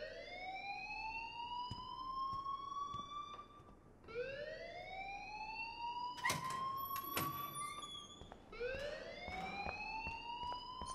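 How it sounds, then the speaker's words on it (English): A fire alarm rings in the Life is Strange video game, a loud repeating rising electronic wail that sweeps upward about every two seconds and continues without talk. "please turn off that alarm since that's your"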